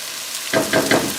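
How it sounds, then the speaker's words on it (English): Fresh ground garlic hits a hot frying pan of beef stroganoff with a sudden close sizzle that swells in a few pulses as it is stirred, loud and alone. "And then I'm going to add the garlic last. I don't want it to burn."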